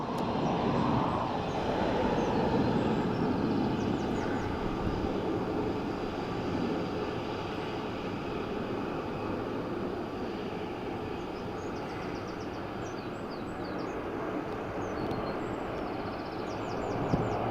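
Ryanair airliner arriving at Dublin Airport from Faro, a steady broad engine roar that holds at a fairly even level throughout, somewhat distant, with no talking.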